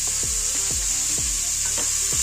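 Ginger garlic paste sizzles in a hot pan for tomato rice, a steady bright hiss of frying broken by regular scraping strokes of a spoon stirring roughly every half second.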